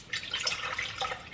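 Hemp, chia and oat milk poured into a blender, a soft, continuous trickling and splashing of liquid that runs steadily for over a second, faint and close with no talking.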